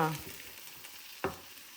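Kerala fish curry masala sautés in a pan with a soft steady sizzle, broken by a couple of brief stirring scrapes.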